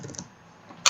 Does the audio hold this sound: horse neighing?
no